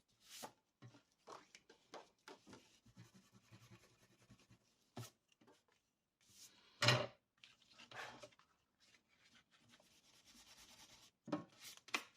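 An eraser rubbing out pencil marks on paper while assembling a vintage-style mini scrapbook album, heard as faint, quick scrubbing strokes in short bursts separated by quiet gaps, with a few louder handling knocks.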